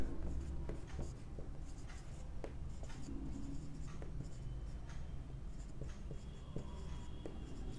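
A chemistry formula for Raoult's law being written on a board in a classroom lesson: close, continuous scratchy strokes with sharp taps between letters, and no talking.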